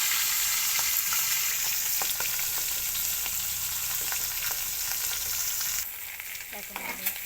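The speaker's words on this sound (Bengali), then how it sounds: "একটা করে ভাজতে হবে।" Large fish heads fry one at a time in hot oil, a loud, dense, continuous sizzle close by that eases noticeably near the end, with occasional stirring taps.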